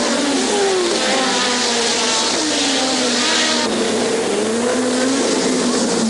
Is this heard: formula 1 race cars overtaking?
yes